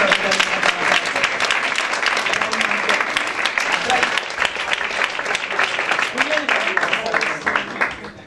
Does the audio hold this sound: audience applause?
yes